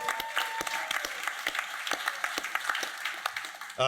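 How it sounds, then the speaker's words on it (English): An audience at a panel dinner applauds for Laura with dense, steady clapping that holds throughout, close and fairly loud. "So big round of applause for Laura."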